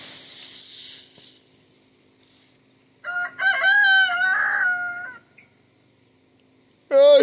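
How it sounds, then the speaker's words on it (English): A rooster crows outdoors in the early morning, one loud, clear crow in the middle and a second starting near the end, with a hiss of noise at first and quiet between. "It's having a crow off with all the other roosters out here."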